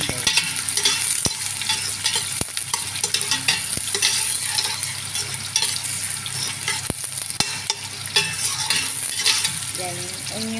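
Garlic and onion sauté in a hot pan, giving a steady, close sizzle with stirring throughout and sharp clicks of a utensil against the pan now and then.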